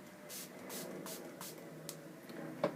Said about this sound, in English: now I'm using my MAC Prep and Prime Fix Plus primer spray